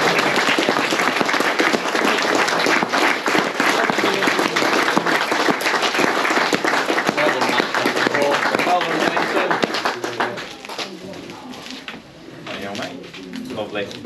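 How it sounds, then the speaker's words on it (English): A room full of people at a fishing match prize-giving claps long and hard for the champion. The sustained dense applause tapers off near the end as voices and pigeon coos come through. "Big round of applause, Jason"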